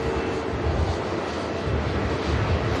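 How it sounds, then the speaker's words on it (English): An EasyJet airliner departing Manchester Airport for Tenerife South, a broad, steady engine roar that fills the air without letup, loud and unbroken with no voices. "And here is the EasyJet heading out for Tenerife South"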